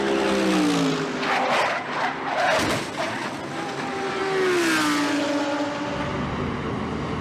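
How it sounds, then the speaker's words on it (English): A race car driven by Spencer Pumpelly skids and slams hard into the tire barrier at turn one: loud engine roar with rising and falling pitch, tire scrubbing, and a broad crunching burst partway through, continuous and close. "Spencer Pumpelly hard into the tire barrier at the end of row one, or excuse me, turn one"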